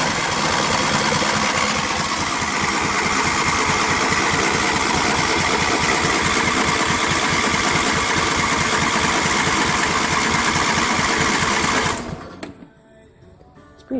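A John Deere LA150 lawn tractor engine, freshly fitted with a new fuel filter, plugs and oil, runs loud and steady at close range for about twelve seconds, then cuts out abruptly into near silence.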